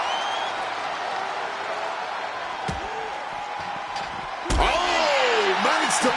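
Arena crowd noise from the WWE 2K26 wrestling game on PS5: a continuous roar of cheering with a couple of sharp slam-like impacts. A voice sweeps in over the din near the end.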